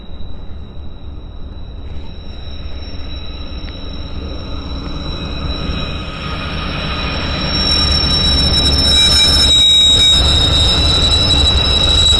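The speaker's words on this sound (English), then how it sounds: "And here comes a train," A train rolls past near Glacier Park, a low steady rumble that builds louder toward the end, with high metallic wheel squeal ringing over it.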